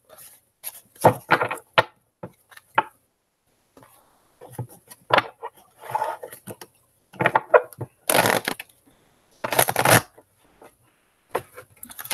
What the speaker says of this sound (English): these large cards are kind of hard for me to shuffle